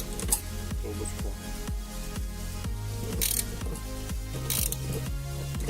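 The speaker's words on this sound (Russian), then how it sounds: "И начинаем развальцовывать трубочку." A brake line tube is flared using a flaring tool kit, giving close, steady ratcheting clicks in a regular rhythm, with a couple of brief harsher scraping bursts partway through and no talking.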